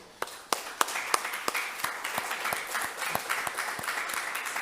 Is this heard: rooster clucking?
no